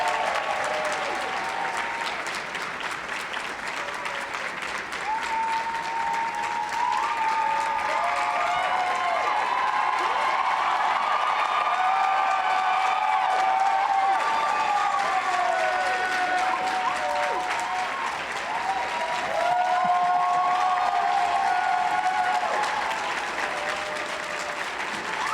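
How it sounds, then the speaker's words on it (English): Sustained audience applause at a forensics awards ceremony fills the room, a dense wash of many hands clapping at steady strength for a long stretch, with faint crowd murmur underneath and no voice speaking over it. "let's give them applause"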